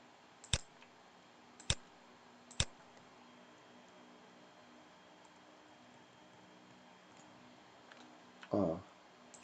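Three sharp, isolated mouse clicks spaced about a second apart while selecting cells in an OpenOffice Calc spreadsheet, followed by a brief rustle near the end, over quiet room hiss.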